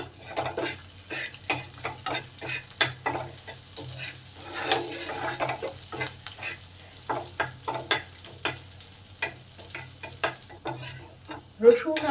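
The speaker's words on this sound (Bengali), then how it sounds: "কাঁচা লঙ্কাটা ভালো করে ভাজা হয়ে এসেছে" Chopped green chilli and garlic frying in a pan, a low background sizzle broken by repeated scraping and knocking strokes of a spatula in an irregular rhythm, close by, with a sharper clank near the end.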